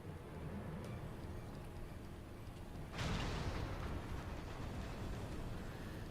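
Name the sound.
cannon fire and explosions in video game FFXIV Stormblood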